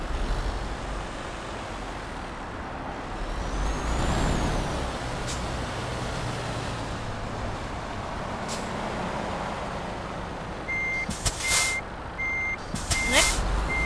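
Truck in Euro Truck Simulator 2 reversing to park, its engine rumbling steadily and an air brake hissing, then a loud run of evenly spaced reversing beeps near the end.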